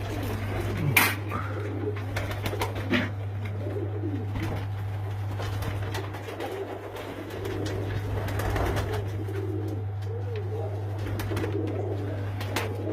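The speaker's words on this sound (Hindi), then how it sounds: "ये ब्रीडर कबूतर।" Breeder pigeons coo in soft, repeated low calls on a rooftop in Pakistan. A steady low hum runs underneath, and a few brief flaps or clicks are heard. There is no talking.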